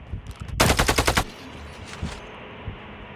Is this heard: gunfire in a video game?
yes